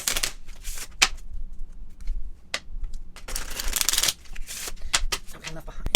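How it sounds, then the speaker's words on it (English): Cards shuffled repeatedly up close, bursts of rapid riffling and slapping separated by short pauses, with occasional soft taps. "I'll shuffle a couple times so I don't know where it"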